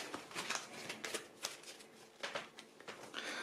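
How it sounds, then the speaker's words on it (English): Playing cards are shuffled in quick, crisp riffling bursts, several flurries close by with short pauses between them. "shuffle up the black cards, giving 5 cards to each player."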